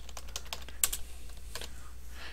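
Computer keyboard typing a short thread name, a quick burst of several clicky keystrokes close up in a quiet room.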